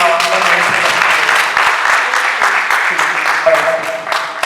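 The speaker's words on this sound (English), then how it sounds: "shall we please give a round of applause to our honorees?" An audience applauds honorees at a small business event with dense, sustained clapping that stays loud throughout, with voices mixed into the crowd noise.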